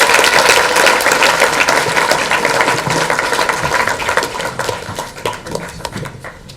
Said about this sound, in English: Can everyone please give David a big round of applause?